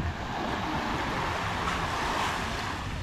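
Ocean surf washes in a steady roar at Cabongaoan Beach, Burgos, Pangasinan, with wind rushing over the microphone; no voices, just continuous rolling water noise.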